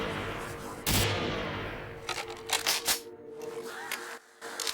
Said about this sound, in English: God damn, that gun is loud as fuck.